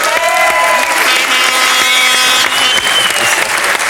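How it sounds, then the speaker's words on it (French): A TV studio audience on a French talk show applauds steadily and loudly for a guest, dense clapping with faint crowd voices beneath. "On applaudit Dorothée"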